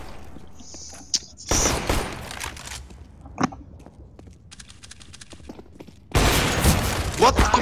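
Bursts of rapid Fortnite gunfire erupt in loud volleys, separated by quieter stretches with scattered single shots and background game noise.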